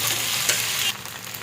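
Broken wheat (lapshi) stirred and frying in hot ghee in a kadhai, a steady close sizzle with stirring scrapes, briefly louder before settling softer, no talk.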